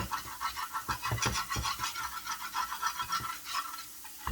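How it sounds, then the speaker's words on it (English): A whisk scrapes rapidly back and forth through a flour roux for sausage gravy in a pan, a quiet rhythmic scratching that keeps going without pause, close up and without talk. "So just keep whisking."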